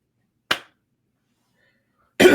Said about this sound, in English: Told me to clap one time,